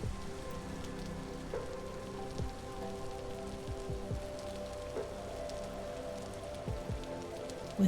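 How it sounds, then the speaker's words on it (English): Steady rain patters on surfaces throughout in the video game Vintage Story, with scattered drips and a low background rumble of thunder, fairly quiet and even. "I took a moment to simply listen to the rain and the thunder."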